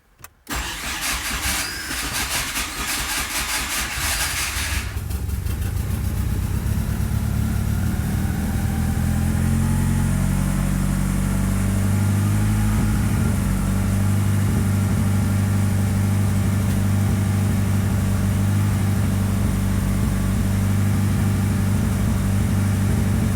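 A 4G63 engine in a Mini Cooper cranks, catches and settles into a loud, steady high idle with a deep droning hum, close up and without talk.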